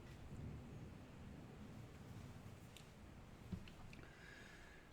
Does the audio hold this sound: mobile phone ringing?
no